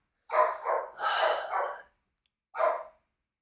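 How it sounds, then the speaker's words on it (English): A pet dog barks close by, a run of three quick barks followed by a pause and then one more, loud against near silence. "there's my dog"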